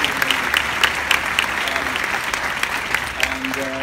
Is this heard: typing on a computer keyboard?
no